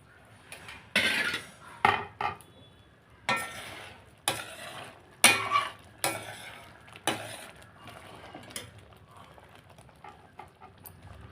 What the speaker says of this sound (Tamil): இப்போ நல்லா கொதி வந்துருச்சு பாருங்கள்